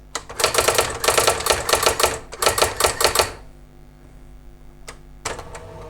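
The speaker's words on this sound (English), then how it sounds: "So I'm just going to type something." A Brother AX-15 electronic typewriter types in quick bursts of sharp, close key strikes for about three seconds, then a pause and a couple of isolated clacks.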